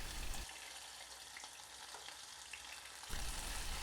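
Food deep-fat frying in hot oil, a quiet, continuous bubbling hiss with a louder burst of sizzle near the start and again near the end, heard alone without speech.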